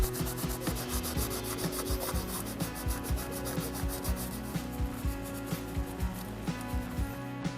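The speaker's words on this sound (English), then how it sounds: "Prepare surface for new gasket. I will use dishwashing sponge rough side." The rough side of a dishwashing sponge scrubs the gasket surface of a 1.9 TDI PD diesel engine, making a close, rhythmic series of rasping strokes, one after another at a steady pace for several seconds.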